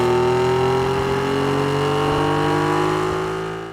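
A simulated car engine and exhaust from Crankcase Rev hold a steady, buzzing rev with strong harmonic tones that climb slightly in pitch, then the sound fades out at the end, clean and alone.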